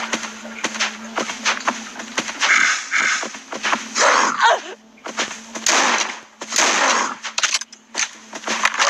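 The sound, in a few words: gunshots in the video game Death Park 2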